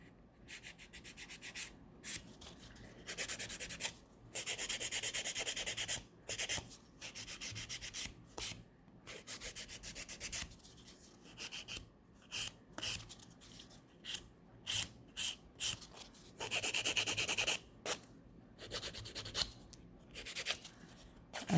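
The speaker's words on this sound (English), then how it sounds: "you're going to take your file in the direction that you want your nail to take shape" A nail file shapes a fingernail in close, quiet strokes, giving a dry scratchy rasp in bursts of rhythmic back-and-forth rubbing separated by brief pauses.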